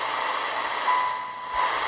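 A steady tone received on a cheap $10 shortwave radio, a faint thin beep sitting in a constant bed of hiss and static noise, held for about two seconds without speech.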